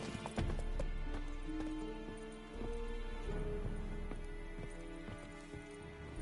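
Roach, the horse in The Witcher 3: Wild Hunt, trots along with a steady run of hoof clip-clops over the game's ambient sound, fairly close and clear.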